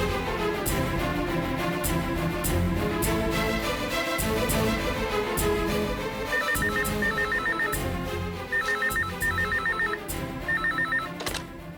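A telephone rings in repeated trilling bursts while a call is placed, its bright bell-like pulses recurring at regular intervals over a dense steady background.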